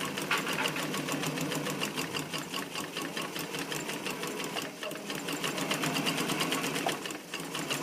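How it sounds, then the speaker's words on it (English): A sewing machine stitches in a zipper, its needle hammering in a fast, steady, even rhythm that runs close and continuous throughout with a brief dip midway. "now I'm going to sew up this side"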